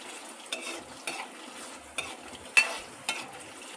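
Peanuts, urad dal and chana dal frying in a pan for lemon rice and getting stirred, a soft steady sizzle broken by about six sharp scrapes of the spatula, close and quiet, no speech.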